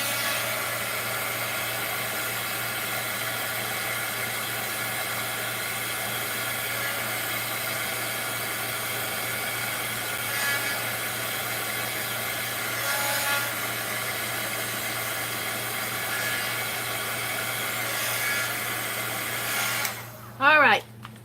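A heat tool blows a continuous, loud, steady whoosh while drying a craft project in a mixed-media stamping and collage session, running unbroken for about twenty seconds before cutting off amid a brief clatter.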